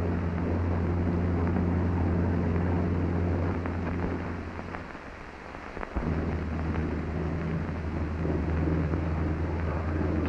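A World War II US fighter plane roars steadily through its takeoff run, its loud droning engine easing briefly in the middle before the deep, constant rumble returns, with wind buffeting throughout.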